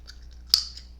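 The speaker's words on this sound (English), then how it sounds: "I've been chewing my black gum." Black chewing gum worked close to the mouth: soft, wet, quiet chewing clicks, with one sharper snap about halfway through that trails off.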